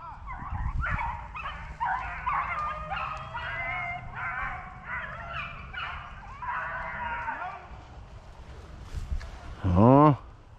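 Hunting dog on a rabbit hunt, a rapid run of excited yelping barks close by, ending with a loud whining yelp.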